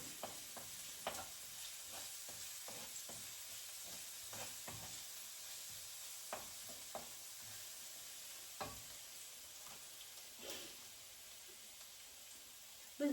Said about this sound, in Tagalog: Igigisa lang po natin ang garlic